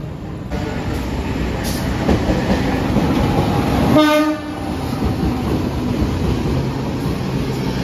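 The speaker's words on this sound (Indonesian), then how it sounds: "Kereta Saunggalih masuk stasiun Bekasi" The Saunggalih train rumbles and clatters loudly on the rails entering Bekasi station, Indonesia, its horn sounding briefly midway before the steady rolling noise continues.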